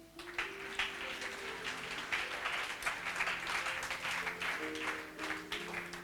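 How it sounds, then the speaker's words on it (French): A church congregation claps and applauds together, steady and sustained across the whole stretch, with faint voices mixed in. "Mais on acclame quand même pour ton retour."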